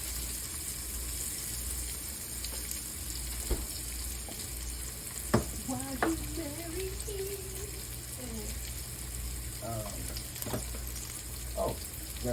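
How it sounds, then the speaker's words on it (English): Onions sautéing in a pan on medium heat, a steady soft sizzle running throughout with occasional utensil clicks; a voice talks briefly partway through. "we're going to saute this on medium heat till it becomes translucent or see-through"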